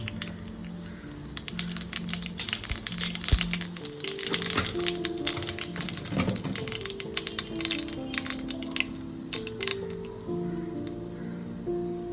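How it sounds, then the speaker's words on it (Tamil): Mustard seeds crackle and sizzle in hot oil for a Tamil-style bitter gourd fry, a dense steady frying hiss with scattered sharp pops close by, and no talk. "எண்ணெய் காஞ்சதும் கொஞ்சோண்டு கடுகு போட்டுருங்க"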